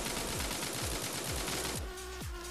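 A rifle fires in rapid full-auto spray bursts in the mobile shooter Forward Assault, sharp rhythmic shots repeating quickly then slowing to a few spaced rounds, loud and close.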